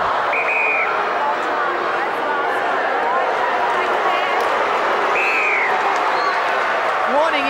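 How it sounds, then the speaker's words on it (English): Steady, loud crowd roar at a netball grand final, the 1994 National Mobil Super League match between Adelaide Contax and Garville, filling the whole stretch with a few whistle-like tones and an announcer talking over it. "I couldn't quite hear her for the noise of the crowd"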